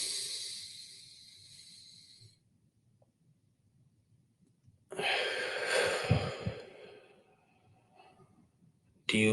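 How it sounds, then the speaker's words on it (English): Slow, deliberate breathing during a mindful breathing exercise: a soft drawn-out breath fading away, a long quiet pause, then a louder, fuller breath that trails off, with no one talking. "And now breathe out."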